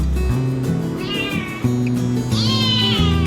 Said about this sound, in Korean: 고양이 울음소리에 뒤를 돌아보니 바로 앞에서 나는 소리였네요